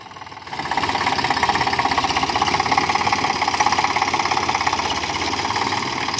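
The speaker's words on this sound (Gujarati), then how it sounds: "કિશનભાઈ આપણે મધરું ટ્રેક્ટર લઈને જાય છે" A tractor engine runs close by in a farm setting, a loud steady diesel chug with rhythmic knocking pulses that swells up after the first half-second and holds.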